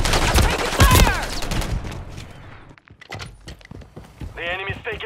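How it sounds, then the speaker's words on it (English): Rapid bursts of automatic gunfire and scattered shots crack close and loud in Modern Warfare 3 third-person multiplayer, mixed with clanks, thumps and game voices shouting over the firefight. "I'm taking fire!"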